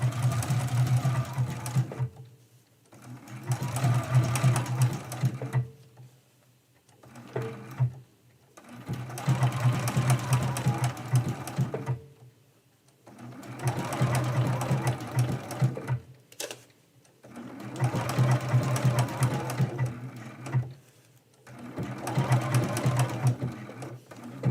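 A sewing machine stitches down the outline edges of two appliqué flowers on a medallion quilt, running in steady bursts of a few seconds each, separated by short pauses.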